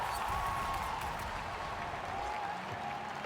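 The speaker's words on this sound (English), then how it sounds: "The crowd erupting" A live arena crowd at a Gamers8 2022 Rocket League esports match applauds and cheers in a steady roar.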